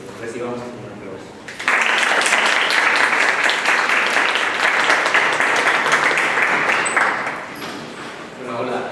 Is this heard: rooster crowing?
no